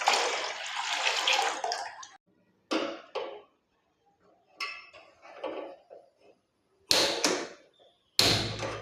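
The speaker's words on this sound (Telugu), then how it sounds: "ఇప్పుడు వాటర్ పోసుకొని గ్యాస్ అంటించుకొని మెత్తగా ఉడికించుకుందాం పెసరపప్పు." Water poured into a pot of moong dal in several separate splashing bursts with quiet pauses between them, close by and fairly soft.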